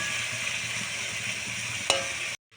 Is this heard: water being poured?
no